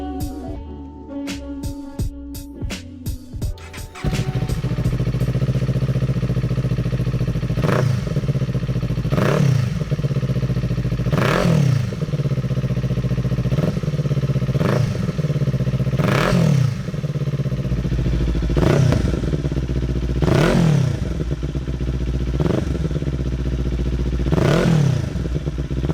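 A Kawasaki Z400 with a Yoshimura Alpha T aftermarket exhaust idles with a deep, throaty note, then revs again and again in regular bursts, loud and close, after a short clattering start.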